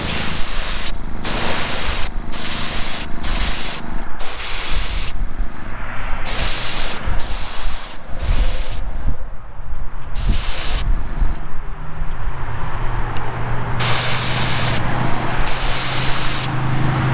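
A spray gun lays a wet coat of paint on a custom 1955 Chevy gasser, giving loud close hissing bursts of varying length with short gaps between them.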